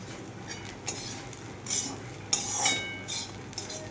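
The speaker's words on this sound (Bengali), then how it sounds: "ধনেপাতাটা দিয়ে আবার একটু নাড়াচাড়া করতে হবে" A pan of poha with fresh coriander leaves is stirred, giving scraping, clinking strokes of a spoon against the metal. The bursts come irregularly over a soft background, with one sharper scrape partway through and no talking.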